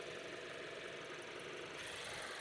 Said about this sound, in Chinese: 大家可以听一下它的发动机的声音，基本上是正常的